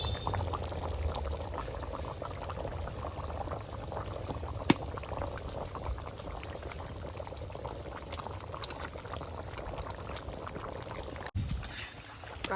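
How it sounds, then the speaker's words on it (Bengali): Rui fish going into a thin winter-vegetable curry broth simmering over a wood fire: a continuous dense bubbling, hissing wash with a brief splash, steady and close, nearly cutting out at the end. "মাছগুলো ঝোলের মধ্যে দিয়ে দিচ্ছি এবার"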